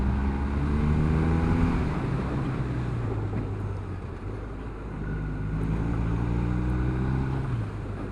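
A BMW Motorrad R1250 motorcycle engine heard while riding on the road, a steady low harmonic drone that climbs and drops with gear changes, partly buried in wind rush against the microphone.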